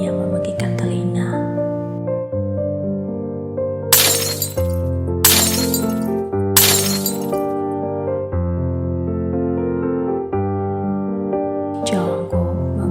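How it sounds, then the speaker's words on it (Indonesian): A vase, a mirror and furniture are smashed in a room, with three loud, sharp bursts of shattering glass and a later fainter crash, all under a continuous backing of music. "menghancurkan segala hal yang dapat diraih oleh tangannya. Vas bunga, spray bantal, cermin, meja rias, dan sebagainya."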